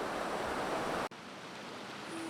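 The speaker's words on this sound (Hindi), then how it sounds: "बड़ी नदी मिल गई है और पानी का फ्लो काफ़ी तेज़ है" A big, fast-flowing river roars as a steady broadband rush of water, loud and close, briefly interrupted by a sharp cut before the dense rushing continues.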